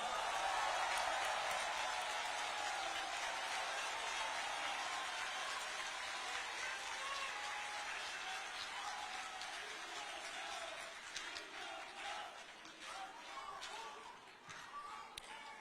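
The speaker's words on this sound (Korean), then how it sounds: "여기 우리 경남의 의원님들께 모두 박수를 쳐주십시오." Political rally crowd in Gyeongnam applauding local lawmakers, a broad wash of clapping and crowd noise heard at a distance, fairly faint and steady, breaking into scattered claps and murmurs near the end.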